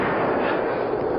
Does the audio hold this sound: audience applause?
no